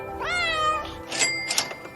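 A cat meowing sound effect gives one clear, close meow that rises and then falls, followed by a few short clicking and rustling noises.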